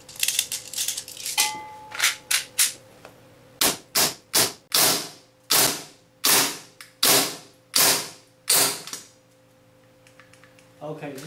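A gas-powered airsoft BB gun fires about ten sharp, loud cracks in an uneven rhythm, each a short burst with brief pauses between shots, while a low tonal hum runs underneath.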